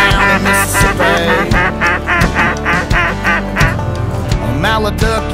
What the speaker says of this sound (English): A mallard duck